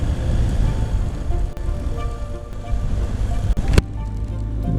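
Cold wind blowing hard across the rocky Iceland coastline, a steady rushing roar buffeting the microphone with a sharp gust thump near the end, surf-like noise throughout and no speech.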